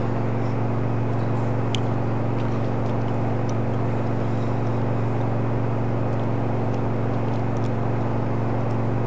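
Single-prop plane engine in the Microsoft Flight video game, a steady low droning hum with constant loudness and no change over the whole stretch.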